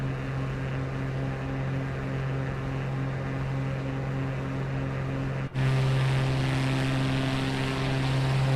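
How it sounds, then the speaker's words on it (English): A propeller airplane engine in a flight video game drones as a steady, loud hum with a constant low pitch, briefly cutting out for an instant and then resuming slightly louder. "Probably not how you would want to make this turn if you had, say, passengers on the plane."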